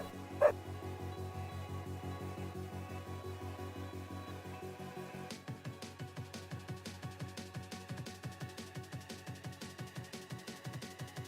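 Dog giving a long run of rapid, rhythmic yips and barks, steady and moderately loud, after one sharper bark near the start.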